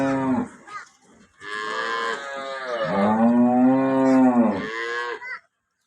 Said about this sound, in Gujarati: આ ગાય ધોળી ગાય છે